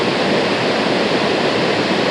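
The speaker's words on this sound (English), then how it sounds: "I'm at a waterfall on my first walk" Waterfall on a nature walk, a dense, close, steady rush of falling water filling the short stretch with no voices.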